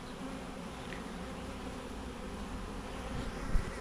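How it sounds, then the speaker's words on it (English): A swarm of honeybees hums around a hive box, a dense, continuous buzz that is close and fairly quiet, with no voices. "get the bees to come into this"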